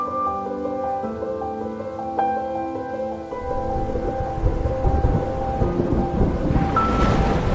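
Thunder rumbles across an African savanna during rain, a deep, building roar rising in the second half beneath steady broadband rain and wind, with an earlier tonal, siren-like hum fading out.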